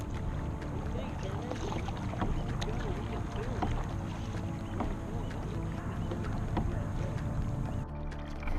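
Kayak paddling on water during a family outing, with steady splashing and water movement close by, a continuous low wash under light wind, no clear speech.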